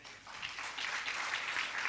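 A packed hall's audience at a religious discourse on the Hanuman Chalisa claps in a soft, diffuse wash, swelling slightly partway through and holding steady.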